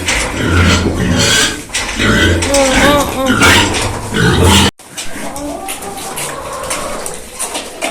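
Pigs grunt and oink loudly and repeatedly at close range in a farmyard, with someone talking over them. The noise cuts briefly near the middle and then continues more quietly.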